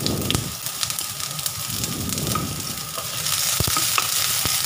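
Garlic and onion sauté in a hot pan for pasta with pork and beans, a continuous close sizzle with scattered crackles and a few stirring scrapes, growing slightly louder toward the end.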